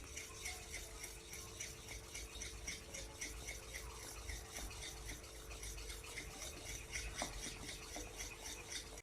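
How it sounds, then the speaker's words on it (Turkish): Butter and a packet of vanilla sugar are stirred in a pan for a pudding until the butter melts, a steady, close scraping and rasping of the utensil against the pan, continuous and even throughout with no talking. "Ve şöyle bir paket şekerli vanilin karıştırıyorum. Tereyağı eriyene kadar."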